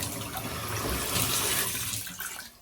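Hot water running from a Moen shower faucet after a 1225 cartridge replacement, a steady close rushing hiss that fades slightly near the end.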